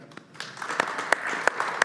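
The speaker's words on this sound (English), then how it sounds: "Please join me in a brief round of applause for our two panelists, Chris Birch from Modiphius and Adam Bradfor" A conference audience applauds two panelists, a dense patter of clapping that builds up and then holds steady, with a few sharper claps standing out.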